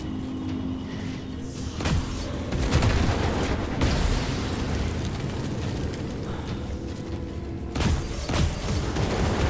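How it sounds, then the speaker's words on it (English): Grenade explosions in the game Immortal Unchained, with heavy booming blasts landing repeatedly over a rumbling, noisy combat background and a couple of sharper bursts standing out. "I just ended up spamming this guy with this grenade until he died"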